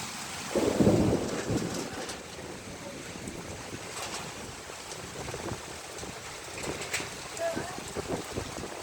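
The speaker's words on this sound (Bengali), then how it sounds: "কত জোরে জোরে বজ্রপাতের শব্দ হচ্ছে।" Thunder rumbles through a sudden rainstorm with strong wind and steady rain, a heavy low boom near the start followed by fainter rolls beneath continuous rain noise.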